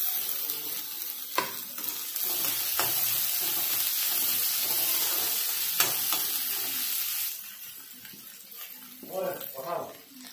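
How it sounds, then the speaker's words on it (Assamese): Onions frying with ginger and garlic added for a bhindi aloo dish, a continuous bright sizzle with occasional stirring knocks, fading toward the end as soft murmured talk comes in. "পিঁয়াজটো 1 মিনিটৰ পিছত মই এতিয়া আদা নহৰু দি দিছোঁ"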